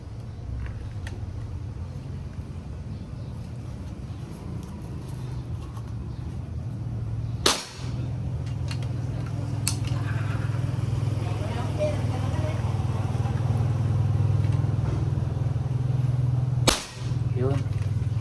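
Two sharp, loud gunshots crack out several seconds apart as a pistol or rifle is test-fired outdoors, over a steady low engine hum, with a fainter click between them.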